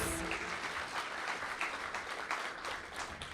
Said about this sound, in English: So a round of applause for both categories.